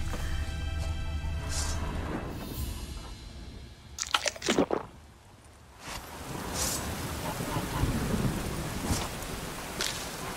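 In The Witcher 3: Wild Hunt, rain hisses steadily with low rumbling thunder, broken by a sudden loud crackling burst in the middle before the downpour continues.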